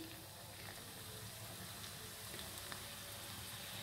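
Mutton keema spring rolls fry in hot oil in a pan, giving a steady, soft sizzle and crackle with small pops scattered throughout.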